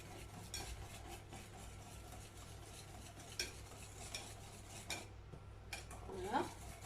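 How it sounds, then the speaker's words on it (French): A spoon stirring chocolate cake batter made with eggs, milk and oil in a bowl, with soft scraping and occasional clinks against the dish, quiet and close with no talking. "Je mélange."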